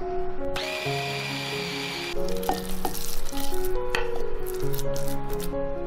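A food processor whirs as it minces meat with soy sauce, salt, pepper, starch and oil. A steady motor drone comes with humming tones and a rougher, louder grinding phase.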